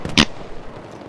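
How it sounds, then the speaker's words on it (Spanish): A grenade explosion in Battlefield 3 on the Karkand map, a single short loud blast at the start that quickly fades into low background game noise. "Esa granada sí que le he tirado bien."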